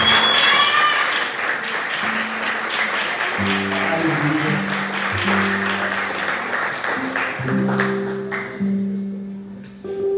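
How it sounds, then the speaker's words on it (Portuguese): A church congregation applauds during a Tuesday worship service, a broad, steady clapping wash from many people while sustained organ or keyboard chords play underneath and a voice calls out briefly near the start. "Vamos aplaudir o Senhor Jesus"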